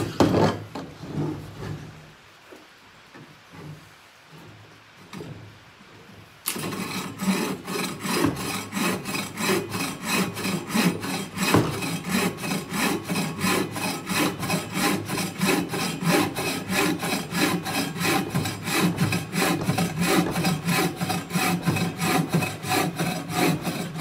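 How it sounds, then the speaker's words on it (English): A buck saw works through a roughly 3.5-inch maple hardwood log that is not fully dried, opening with a few scattered scrapes before settling into a long run of fast, even back-and-forth rasping strokes, close and loud, with no talking. "then you have a full-on buck saw. We'll test this thing out on some lumber,"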